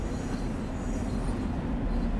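Long Island Rail Road train in Train Sim World, a steady low rumble of rolling rail wheels and carriages, continuous and fairly loud throughout, with no voices.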